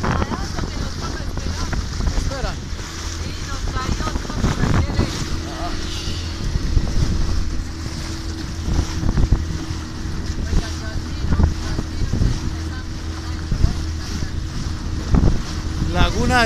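A motorboat cruising on Lake Tota in Boyacá, with a steady engine drone, rushing wind buffeting the microphone and water slapping the hull throughout; voices are faintly present in the background.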